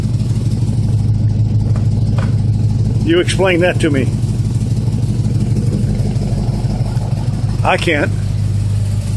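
A car engine runs on a vapor carburetor with a steady, close idle drone and rhythmic pulsing throughout, while someone talks briefly over it.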